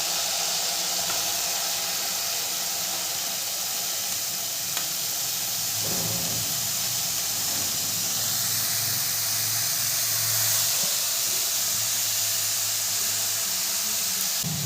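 Chopped khesari greens hit a hot pan of well-fried spices, setting off a loud, steady sizzle and steamy hiss, with a few faint stirring bumps.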